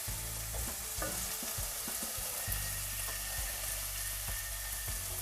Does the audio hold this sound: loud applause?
no